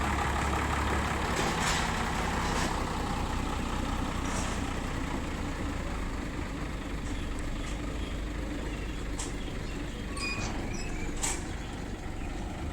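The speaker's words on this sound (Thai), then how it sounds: "รถสิบล้อนะครับ" A ten-wheel truck sits at an event ground, its heavy diesel engine giving a steady low rumble that holds for the whole stretch, with a few faint clinks and distant background noises over it.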